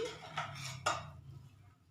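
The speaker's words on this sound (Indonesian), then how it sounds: "Kita masukin semua. Diaduk lagi." Soy sauce chicken being stirred in a pan with seasoning added. A few clinks and scrapes of a utensil against the pan ring out over a low steady sizzle, then fade toward the end.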